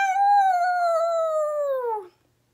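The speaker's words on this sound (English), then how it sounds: "This called for a wonder dog howl." A single long, smooth dog howl holds a steady pitch, then slides downward and stops abruptly, loud and close with no other sound.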